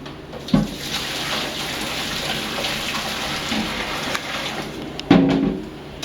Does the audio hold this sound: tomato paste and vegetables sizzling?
no